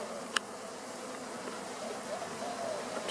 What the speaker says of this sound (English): there's like a whole wave of bees walking towards the front of the box